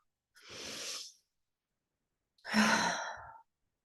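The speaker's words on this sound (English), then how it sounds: "taking a big deep breath. Let's do that right now." A person takes two big, deep breaths, close and clear, each a long airy rush lasting about a second, separated by a short silence, with no other sound around them.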